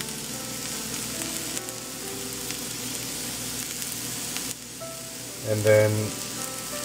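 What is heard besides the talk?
red onions sizzling as they fry in a pan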